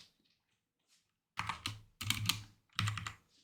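After a near-silent pause, three short bursts of rapid clattering keystrokes come from a computer keyboard being typed on up close.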